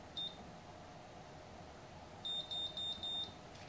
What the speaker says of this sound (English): One beep means it's heating, and multiple beeps means it's ready.